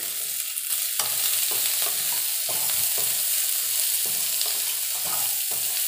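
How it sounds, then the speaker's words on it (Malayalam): Sliced onions fry in a pan for beef with vegetables, a steady hiss under repeated rhythmic spatula strokes as they are stirred. "സവാളയെല്ലാം ചേർത്ത് കൊടുക്കാം, ഇളക്കി കൊടുക്കാം നന്നായിട്ട്"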